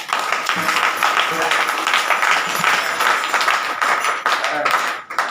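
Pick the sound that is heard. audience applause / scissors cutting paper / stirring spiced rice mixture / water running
audience applause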